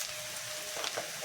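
Cumin seeds sizzling in hot oil for a mixed vegetable curry, a soft steady hiss with a few faint crackles and pops, quiet and brief.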